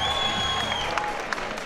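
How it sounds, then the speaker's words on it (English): An arena crowd cheers and applauds steadily through the fifth and final round of a boxing superfight, a dense roar with claps and whistles that holds at high level the whole time. "In the fifth and final round, the crowd are on their feet here."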